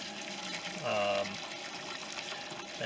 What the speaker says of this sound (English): simmering for about a half an hour now, so I'll strain it